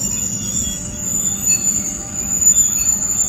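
Railcar being slid off an NECR train, its wheels giving a steady high metallic squeal over a continuous low rail rumble, close by and with no voices.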